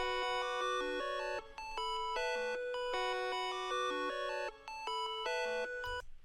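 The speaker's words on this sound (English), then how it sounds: "I duplicated this and put it into gross beat." A bright, bell-like synth melody made in FL Studio and run through a Gross Beat preset for a hyperpop glitchcore track, rapid stepping notes in steady patterns with brief chopped dropouts, loud and alone.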